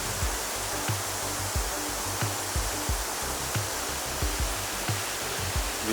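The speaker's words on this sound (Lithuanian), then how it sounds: "Apgriuvęs vandens malūnas." Water rushes steadily at the ruined Maišiakulė water mill, a dense, even roar with faint regular low thumps recurring throughout.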